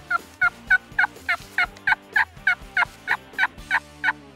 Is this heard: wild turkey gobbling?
yes